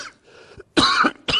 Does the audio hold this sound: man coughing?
yes